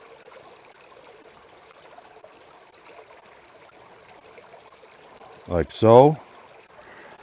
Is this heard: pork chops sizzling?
no